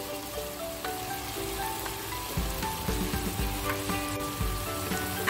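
Stink beans (petai) sizzle steadily in a hot frying pan with oil, a soft continuous crackle with occasional pops and scraping of a utensil as they are stirred.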